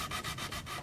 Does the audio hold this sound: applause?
no